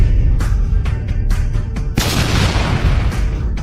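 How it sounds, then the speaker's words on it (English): A sequence of sharp booms and blasts plays as an explosion sound effect, with several separate impacts followed by a larger, sustained burst of roaring noise and scattered debris-like crackle, loud and close. "After an explosion, debris flew everywhere."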